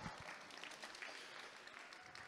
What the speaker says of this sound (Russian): Ваши аплодисменты группе Юниоры 2 Rising Stars.